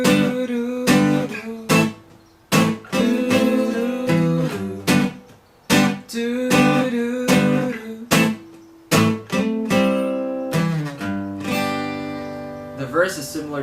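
An acoustic guitar plays the chords and licks of a song, with sharp rhythmic strums alternating with short melodic runs, close and clear, ending on a longer ringing phrase.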